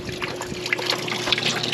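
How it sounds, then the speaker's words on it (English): Rainwater from a roof gutter trickles and splashes into a low swimming pool, with a steady liquid patter and small bright droplet splashes, close and moderately loud. "look at all that wonderful water."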